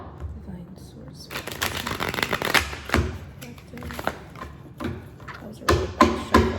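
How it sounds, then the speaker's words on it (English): A deck of tarot cards is shuffled in irregular bursts of riffling and slapping, with sharp clustered flutters and soft thumps against a quiet room. "That was a really bad shuffle."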